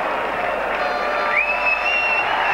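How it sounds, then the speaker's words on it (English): A full-time hooter sounds at a 1985 New Zealand versus Australia rugby league test, a thin sustained tone that rises and holds over the roar of a large applauding, cheering crowd. "And there's the full-time hooter."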